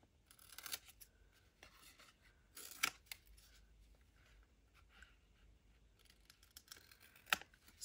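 Scissors trimming paper for a junk journal page, giving short quiet snips and rustles in a few scattered bursts with a sharper snip near the end, soft and close with no talking.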